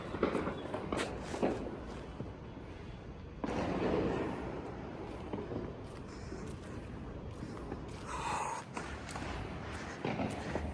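Diwali firecrackers burst around a PG terrace in Bangalore: scattered cracks and pops, some sharp and near, others distant, over a constant background crackle and hiss.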